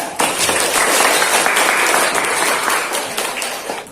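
A classroom audience claps for a student group after their presentation, a loud, dense and sustained round of applause that tapers slightly toward the end, with no voices over it.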